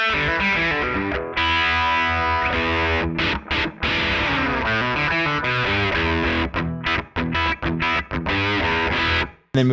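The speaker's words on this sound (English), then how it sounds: "Howl's sort of like a mix between drive and fuzz" Electric guitar played through a Hologram Chroma Console pedal's Howl drive-fuzz effect, thick distorted chords ringing loud and sustained with a few abrupt choked stops, bluesy and alone without talk.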